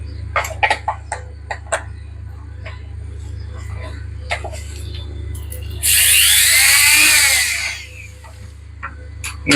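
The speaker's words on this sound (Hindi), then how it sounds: "लकड़ी पे काम करने के लिए एंग्रेविंग मशीन मैं यूज़ करता हूँ" A handheld engraving machine cuts into wood while building a chicken brooder, giving a loud, high, steady whine for about two seconds, with scattered clucking from chickens around it.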